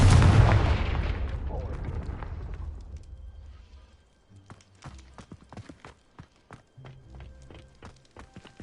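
In the Hogwarts Legacy video game, the Confringo spell sets off a loud booming blast that rolls away into a long fading rumble, followed by scattered footsteps and small impacts.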